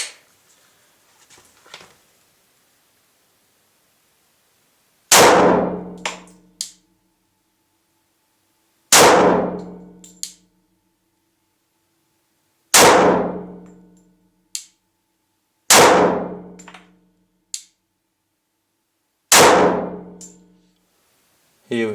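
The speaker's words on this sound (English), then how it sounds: "Now I shoot the Glock 30S with the original grip." Five loud, sharp pistol shots from a Glock 30S fitted with its original grip ring out a few seconds apart, each one decaying quickly into silence, with small clicks between them.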